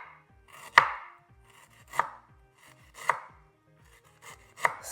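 A knife chops ingredients for a Cameroonian-style beef tomato stew, four sharp separate strikes on a board about a second apart, close and clear, with no talking.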